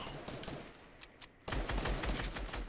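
Gunfire in the Fortnite video game crackles as scattered distant shots and then a denser burst of rapid automatic fire, moderately faint overall.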